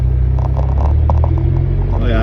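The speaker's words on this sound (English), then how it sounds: "I'm giving her some throttle" A 1997 Jeep Wrangler engine rumbles loudly and close under throttle, with a steady low drone and slight rises in pitch while someone talks over it.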